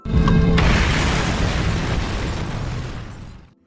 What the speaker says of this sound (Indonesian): Alhasil si teroris pun harus koit bersama ledakan tersebut.